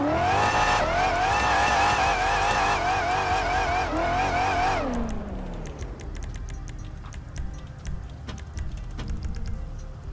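A 2025 Chevrolet Corvette C8 ZR1 Yenko engine in a video game revs high and strong for several seconds, then drops away into idle with scattered ticks and clicks.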